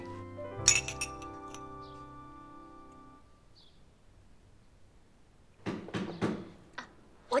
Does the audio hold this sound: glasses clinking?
yes